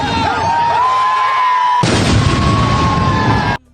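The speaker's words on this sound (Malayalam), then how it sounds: "നല്ല കിഡിലൻ ഡൈനകളായിരുന്നു പൊട്ടിച്ചത്" Fireworks at a Kerala temple vela festival, heard as a sustained roaring barrage of dense, overlapping explosions, loud and rumbling, that surges even harder halfway through and then cuts off abruptly.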